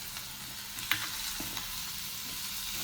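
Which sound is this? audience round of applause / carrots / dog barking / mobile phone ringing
carrots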